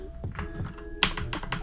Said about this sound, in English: this is a mechanical keyboard and it's very annoying